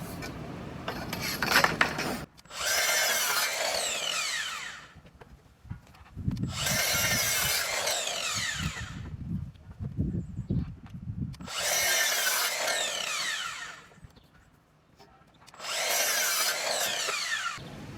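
Power saw cuts wood pieces for a narrowboat kitchen build in four separate passes, each a loud, close whine lasting a few seconds, with quieter handling noise in the gaps between cuts.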